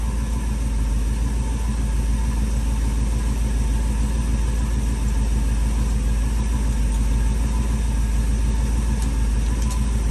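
A truck engine idles steadily and close by, a continuous low rumble with a fine rapid pulse, no voices over it.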